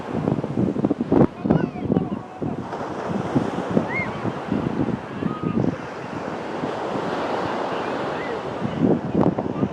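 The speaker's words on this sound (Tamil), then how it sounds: "கடல் எல்லாம் இப்படி மூர்க்கமாக இருக்குது." Rough, heavy surf crashes repeatedly onto a Sri Lankan beach, with strong wind buffeting the microphone throughout; surges of breaking waves rise and fall over a constant roar.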